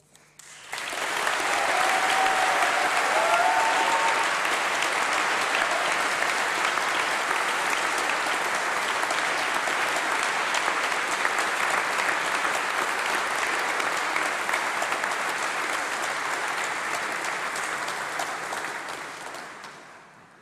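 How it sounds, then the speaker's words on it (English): A large audience at a university graduation ceremony applauds in a sustained, dense burst of clapping, rising quickly, holding steady and loud for most of the stretch, then tapering off at the end. "a huge round of applause for Anna once again."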